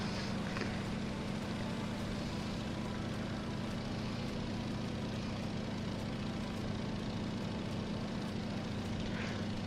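A Stearman PT-17 biplane engine roaring steadily at an airshow, a loud continuous drone with a strong low hum, heard from cockpit distance without pause or talk.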